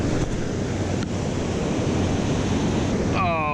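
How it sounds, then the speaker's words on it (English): Rough ocean surf at high tide on the Oregon coast at Lost Creek roars as a continuous wash of breaking waves, loud and steady, with wind noise on the microphone and no one speaking. "we're rocking a 3-ounce weight today because surf's a little rough"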